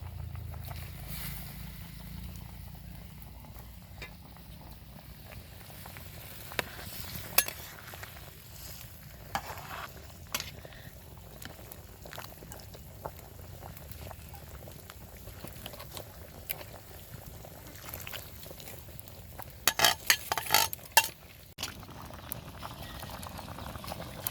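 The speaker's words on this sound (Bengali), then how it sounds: "টকবগিয়ে ঝুলটা ফুটতেছে" Rohu fish curry with potatoes boiling in a pot outdoors beside a rice field, a steady low bubbling broken by occasional sharper pops and knocks, no one talking.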